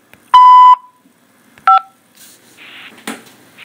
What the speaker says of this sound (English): To accept this call, say or dial 5 now.